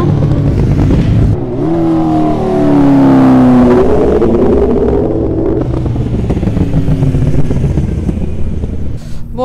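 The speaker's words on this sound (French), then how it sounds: "Là, ils échauffent leur moto en fait, ils s'amusent clairement." Sport motorcycles at a track, superbikes such as a Hayabusa, Kawasaki H2, Yamaha R1, Honda CBR 1000RR-R and BMW S1000RR, rev hard while riders warm them up, with loud overlapping engine sweeps rising and falling close by.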